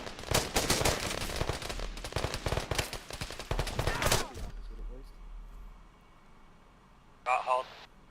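Rapid bursts of simulated gunfire from an Arma 3 military-sim training session, dense volleys for about four seconds then stopping abruptly, with a brief later burst and voices on radio-style comms underneath.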